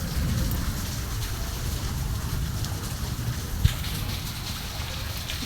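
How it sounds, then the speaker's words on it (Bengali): Rain falling in Kolkata on an afternoon, a steady dense patter and hiss of drops on surfaces with one sharp tap partway through, close and continuous, no talking. "ঝিরি ঝিরি বৃষ্টি পড়ছে"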